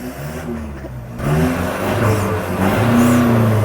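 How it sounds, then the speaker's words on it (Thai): A 2018 Isuzu D-Max 1.9 Blue Power pickup engine revving, starting at a lower idle and then rising into a louder, sustained rev with turbo whir, close and steady. "เดี๋ยวเรามาฟังเสียงเครื่องกัน"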